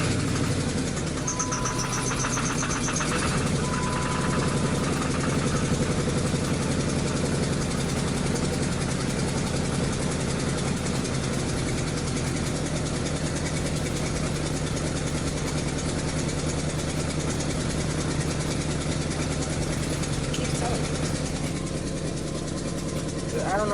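A car engine idles with a dense, continuous rumble and vibration, steady and close throughout, while a person talks over it at times.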